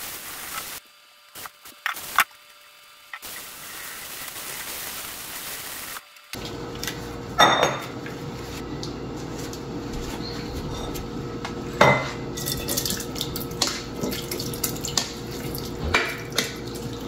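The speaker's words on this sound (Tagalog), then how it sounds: "Ugas plato." Dishes being washed at a kitchen sink, with running water from the tap and scattered clinks of plates and cutlery against it, steady and close with no talking.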